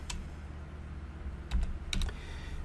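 Fingers type on a computer keyboard in a quiet room, a soft run of close, irregular key clicks with a few louder taps mixed in. No one speaks.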